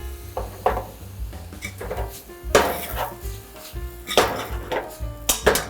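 Cooked pasta noodles stirred in a pan in a restaurant kitchen, a series of irregular clanks, scrapes and knocks of utensil on metal at close range with no talking.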